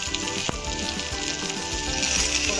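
Curry leaves fry in hot oil in a pan with a steady, dense sizzle and crackle, close and continuous, with one sharp pop near the start.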